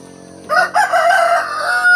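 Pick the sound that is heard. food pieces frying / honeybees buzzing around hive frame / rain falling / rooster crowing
rooster crowing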